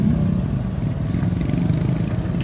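Motorcycle riding on a rough road, a close steady engine drone with clattering bumps, continuous and moderately loud with no talk.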